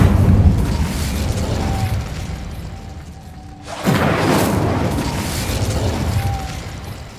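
A fire spell cast in the video game Hogwarts Legacy: a single sudden fiery burst partway through, rising into a loud rushing roar that holds to the end over steady in-game ambience.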